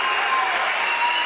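A basketball crowd cheers and applauds after a big blocked shot in a league semi-final, a loud, brief burst of clapping and shouting.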